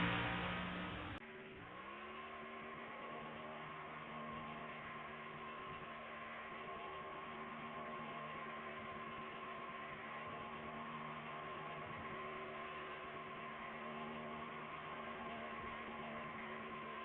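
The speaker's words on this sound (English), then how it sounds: "Let's get into the burnout" A race car doing a burnout at WWT Raceway after the Enjoy Illinois 300, a steady, distant, sustained engine roar with a sharp change right at the start, without talk.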